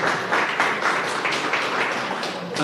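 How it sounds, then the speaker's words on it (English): An audience at an official community gathering gives a round of applause, dense clapping with rhythmic surges heard close and continuous throughout. "Charles, give him a round of applause, special for Charles."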